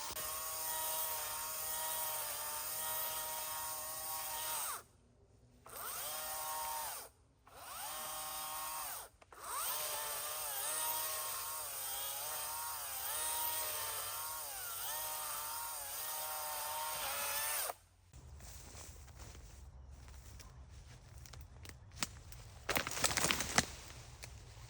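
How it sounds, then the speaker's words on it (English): String trimmer fitted with a saw blade chopping vines into mulch on an abandoned farm, a loud high-pitched whining engine revving steadily with brief cutoffs, then a quieter rattling stretch with sporadic bursts near the end. "then I go in with a weed whacker that has a saw blade on it, and I go over it repeatedly until it's chopped kind of like a mulch"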